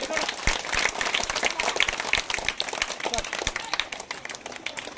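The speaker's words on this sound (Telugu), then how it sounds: "సార్కి అందరు గట్టికి చప్పట్లు కొట్టండి" An audience at a gathering claps loudly for a guest, with many hands beating in dense, irregular applause for several seconds and faint voices mixed underneath.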